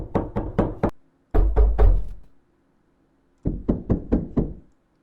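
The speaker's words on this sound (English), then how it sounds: "There's a door knock" Three bursts of sharp knocks on a door in a video game, each group of three to four hard raps, close and loud, separated by silence.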